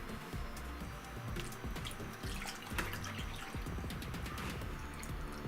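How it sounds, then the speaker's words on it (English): Milk poured into a pan of rice pudding, a steady liquid trickle and splashing running continuously near the mic, with faint drips and a few small clinks over the pour. "Now we add milk to cover."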